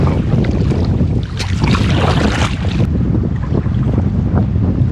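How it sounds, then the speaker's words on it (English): Strong wind blowing on a wilderness lake during a fall storm from a small boat, heavy continuous buffeting rumble against the microphone with gusts and water noise. "it's just been in my face the entire time. Where is this wind coming from?"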